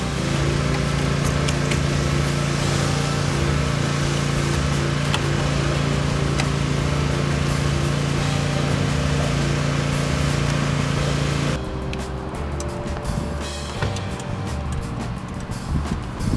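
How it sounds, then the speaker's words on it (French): A loud, continuous motor drone of a neighbor's pressure washer cleaning a car nearby, steady for most of the clip before dropping to a rougher, quieter rumble. "c'est le voisin qui lave sa voiture là, avec son truc à pression"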